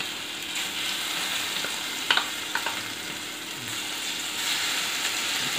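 Mustard seeds sizzle and crackle in hot oil in a pan while Indian gooseberry thokku is cooked, giving a steady frying hiss with a few sharp pops near the middle. Nobody talks.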